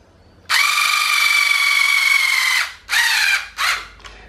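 A Philco Force PPF01 4.8V cordless screwdriver drives a screw with a loud, steady whirring motor for about two seconds, followed by two shorter bursts and a faint final blip, close up with no talking.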